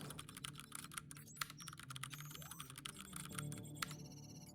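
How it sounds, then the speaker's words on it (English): Rapid, continuous typing on a computer keyboard, dense close clicking with a steady rhythm throughout, faint background tones underneath and no talking. "it was the typing. I was like, what is that?"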